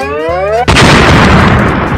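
A firecracker bursts with a sharp, loud bang that leaves a crackling, hissy rumble trailing off, preceded by a short burst of electronic tones.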